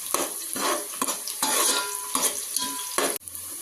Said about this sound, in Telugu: ఉల్లిగడ్డలు ఎర్రగా వేగినాయి